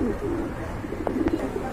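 Pigeons offered for sale, a pair kept together, give a few soft, low coos at close range over a steady background hum.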